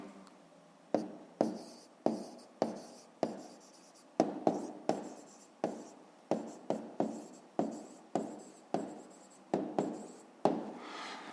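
A pen writing a math answer by hand on paper, with short bursts of scratchy strokes at an irregular pace separated by small pauses, close and quiet, with no speech.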